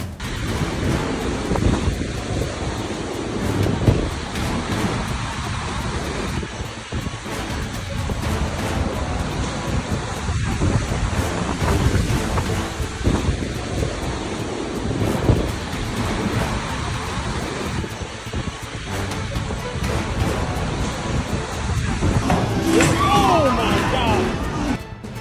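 Loud, continuous roar of wind and surging sea waves, a dense rushing noise that holds steady throughout.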